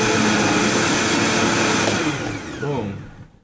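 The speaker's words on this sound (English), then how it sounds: "I'm going to bring this to a full mix, blend it up high for a few seconds here." A blender whirs loudly on high, mixing chaga hot chocolate with maca and coconut into a frothy drink. The steady motor roar lasts a few seconds, then dips and winds down as it is switched off.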